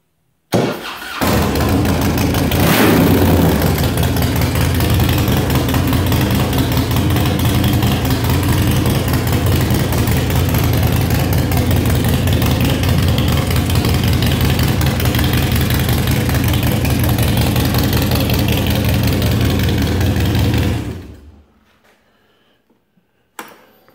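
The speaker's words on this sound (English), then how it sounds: "I'm going to go ahead and start this bike up so you can hear what these pipes sound like." A 2007 Harley-Davidson Road Glide big-wheel bagger motorcycle starts with a quick crank and settles into a loud, steady, rumbling idle through its exhaust pipes, heard close for about twenty seconds before it cuts off abruptly.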